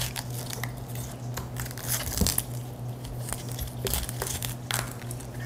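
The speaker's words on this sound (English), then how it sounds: "we kind of cut it off all the way around the main stem here" A knife cuts raw cauliflower away from its thick main stem, giving repeated close crunching, tearing and crackling snaps over a steady low hum, with no talking.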